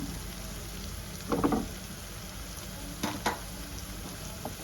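Chicken curry with chili and coriander powder sizzling gently in a pan, a soft steady fry with a few short scraping bursts from stirring, close and fairly quiet.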